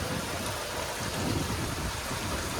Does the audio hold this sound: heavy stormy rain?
yes